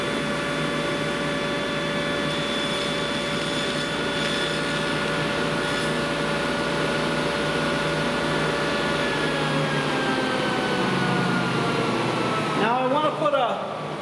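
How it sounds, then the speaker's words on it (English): A table saw fitted with a dado blade runs at a steady, loud whine as a sacrificial wood fence is slid into it to cut a rabbet for a night stand. The tone holds throughout and the cut ends abruptly near the finish. "I can slide my sacrificial fence, this wood, into the blade, and it'll take out the dado there"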